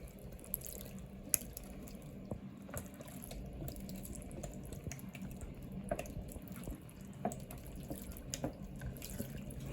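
Water runs steadily from a tap into a pot for zacahuil, a continuous splashing stream with occasional small clinks and drips, close by and fairly quiet.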